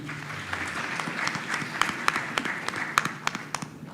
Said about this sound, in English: A big round of applause for Shola.